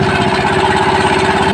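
A portable generator engine runs steadily just after starting, loud and close, with an even, rapid mechanical chug and a constant tonal hum throughout.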